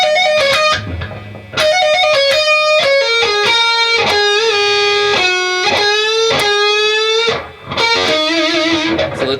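An electric guitar plays a fast distorted lead lick from a song, mixing picked notes with quick hammer-ons and pull-offs in a high register. The phrase is loud and sustained and plays alone with no voices.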